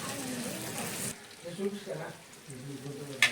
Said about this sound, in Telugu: బ్రెయిన్ని కూడా వేసి లో ఫ్లేమ్లోనే ఫ్రై చేసుకోవాలి